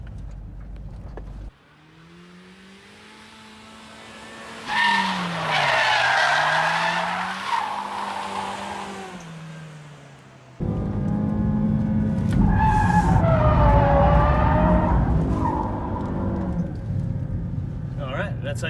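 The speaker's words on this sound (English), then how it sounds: "You're just kind of pulling the handbrake and letting it slide and dragging the ass around." A front-wheel drive car slides on the handbrake, tires skidding in long loud squeals over the engine's droning note, first after a brief stop and then again in a second, harder slide.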